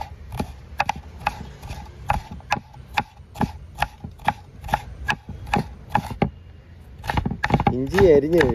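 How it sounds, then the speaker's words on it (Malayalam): Ginger being chopped with a knife on a board, a quick run of sharp, evenly spaced knocks, close and clear, ending as a voice speaks. "ഇഞ്ചി അരിഞ്ഞു കഴിഞ്ഞു."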